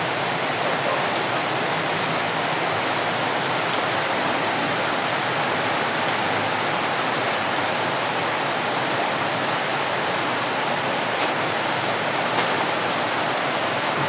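Heavy rain falls steadily during the southwest monsoon, a dense, even rushing wash that holds for the whole stretch with no voices.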